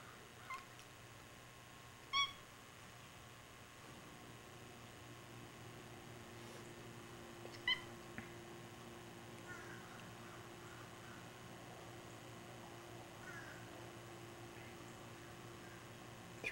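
A three-legged cat meows in a quiet indoor room, a few faint, brief cries spaced far apart over a low steady hum.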